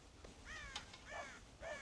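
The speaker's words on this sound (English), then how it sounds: "God damn crows! John! You have got to go deal with them." Crows caw repeatedly in the Red Dead Redemption video game, several harsh calls in an uneven rhythm, fairly close and clear, with no talking.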